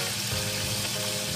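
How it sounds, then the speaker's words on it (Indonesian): Fish frying in oil in a nonstick teflon pan gives a dense, continuous sizzle and crackle, close and steady throughout, with no voices over it. "Nah, ini kita masak sampai kedua sisi ikannya matang."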